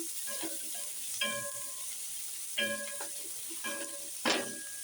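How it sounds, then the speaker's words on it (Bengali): Onion and shrimp sizzle in a pan under a constant low hiss, with several evenly spaced metallic stirring scrapes and clinks of a spatula on the pan, no talk. "একটু ভাজা হোক পেঁয়াজটা চিংড়ি মাছটা।"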